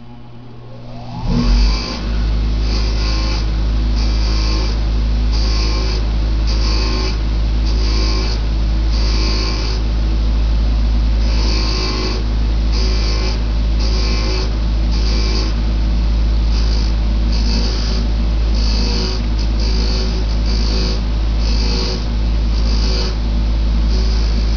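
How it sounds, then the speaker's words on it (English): A wire wheel spins up on a bench grinder, then hums steadily while it cleans a steel washer from a Jaguar E-Type brake pedal box. Rhythmic scratchy bursts come through as the part is pressed against the bristles, loud and close, with no voices. "I'm just going to wire wheel it."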